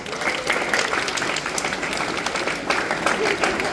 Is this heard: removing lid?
no